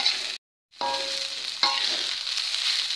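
Nasi goreng with shrimp paste and petai sizzles and fries in a pan while being stirred, a steady close crackle broken by a brief gap and light scraping.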